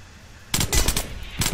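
A gun turret in the video game The Last Stand Aftermath fires rapid, loud bursts of automatic gunfire: one long volley, a brief pause, then another burst.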